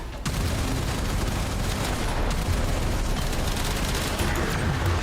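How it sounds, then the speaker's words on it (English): A cruise ship reactor detonates in Warframe, a dense, rumbling barrage of crackling blasts and booms rolling on steadily at moderate loudness with no pauses. "Cruise ship reactor has detonated."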